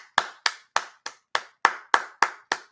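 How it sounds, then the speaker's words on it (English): One person claps their hands nine times in a steady, evenly spaced rhythm. Each clap is sharp and close, with nothing else heard between them. "I'm gonna clap. I'm gonna give you a round of applause."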